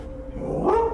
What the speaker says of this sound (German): Könnten Sie den Hund bitte wieder nach draußen bringen?